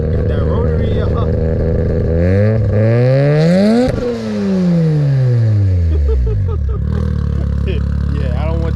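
A Mazda RX-7 rotary engine revs hard nearby, its loud buzzing pitch climbing and falling in repeated sweeps and then dropping back toward idle, filling the whole stretch.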